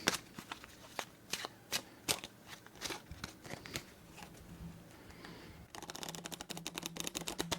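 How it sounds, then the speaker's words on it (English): A deck of playing cards being shuffled for a solitaire game, close up, with sharp riffles and snaps early on, then a quieter stretch and a long, dense, fluttering riffle at the end, with no talk. "Just do one more quick shuffle."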